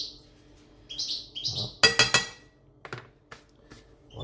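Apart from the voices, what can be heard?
pet bird singing in the room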